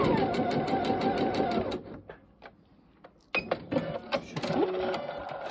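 A sewing machine stitches along a fabric edge in fast, even rattling bursts, pauses briefly amid quiet handling noises, then starts again with short clattering runs.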